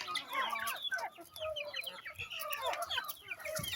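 Chickens clucking busily and close by as they are fed, a dense run of short overlapping clucks and calls with no talking.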